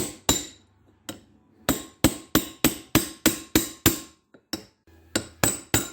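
A hammer taps a bearing race into the rear hub of a 2003 Dodge Ram 3500 dually, a series of about fifteen sharp metallic blows, loud and close, in a mostly steady rhythm with a few pauses.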